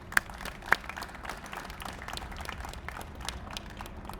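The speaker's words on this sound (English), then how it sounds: "let's give a round of applause for our Parks and Recreation team as well" A crowd applauds outdoors at a park ground breaking for new courts, a steady wash of clapping from many hands with two sharp louder claps near the start, continuing evenly throughout.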